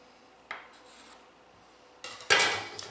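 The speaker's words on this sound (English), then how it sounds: "I'm using my bench scraper here." A metal bench scraper divides wool bread dough on a kitchen counter, giving soft scrapes and a sharp tap early on, then a louder, rasping scrape and knock near the end, close by with no talking.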